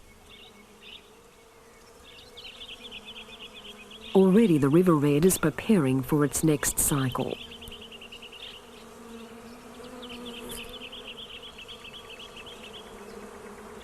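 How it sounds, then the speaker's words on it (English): Insects buzz steadily through Australia's Barmah red gum forest, and a loud, wavering bee drone passes close for a few seconds while a narrator speaks over it. "It explodes with colour, and the air is full of insects."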